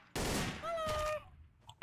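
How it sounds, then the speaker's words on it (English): Turtle mine explosion in Garry's Mod Trouble in Terrorist Town, a sudden loud burst of blast noise lasting about a second, with a tonal ring fading behind it and a brief sharp sound at the end. "I just heard an explosion, turtle."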